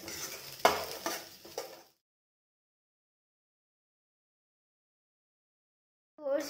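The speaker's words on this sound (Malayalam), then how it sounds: "ഇതെല്ലാം കൂടി ചേർത്ത് നമുക്ക് ഒന്നും കൂടി നല്ലതുപോലെ ഒന്ന് ഇളക്കി എടുക്കാം" Carrots and beans for a vegetable oats upma are stirred in a pan, giving about two seconds of scraping and soft clatter before silence, then a brief return of stirring at the very end.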